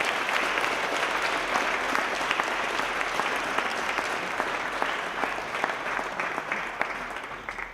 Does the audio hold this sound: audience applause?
yes